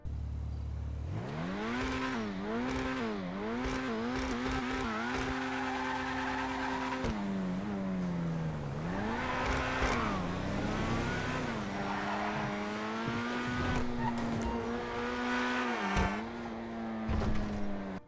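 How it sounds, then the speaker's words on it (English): A Grotti Itali GTO Stinger TT sports car engine in GTA Online revs up and down repeatedly, rising and falling pitch with gear shifts, loud and close, continuous for the whole stretch. "It's time to do a little bit of a sound test"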